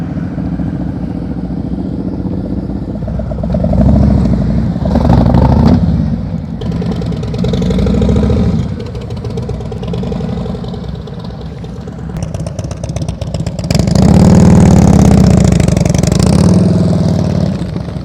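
A motorcycle engine during slow-speed riding practice, rising and falling as the throttle is rolled on and off, with a loud surge near the end, steady and close throughout with no speech.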